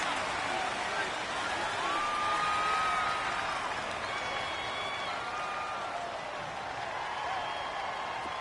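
Steady stadium crowd roar in a PS4 football video game, a dense continuous hubbub of thousands of fans with faint whoops rising through it, loud and unbroken for the whole stretch with no distinct voices.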